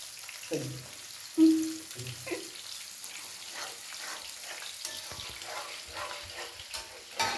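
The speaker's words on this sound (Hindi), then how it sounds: "इधर फिश फ्राई हो रहा है" Fish fries in a pan ahead of being simmered into a curry, giving a soft, steady sizzle with a few clunks of utensils near the start, fairly quiet and close, without speech.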